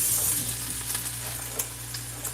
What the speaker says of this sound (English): the sizzling doesn't sound great, but it also doesn't sound bad